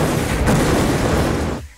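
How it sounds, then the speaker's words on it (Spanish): A loud, sustained rumbling roar from an explosive blast deep inside a gold mine tunnel, broadband and continuous for over a second before cutting off abruptly. "La explosión fractura 100 toneladas de roca."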